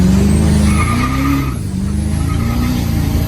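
A 1000hp Duramax pickup spins its back tires, a loud, unbroken roar of engine and tire scrub holding steady throughout with no voices.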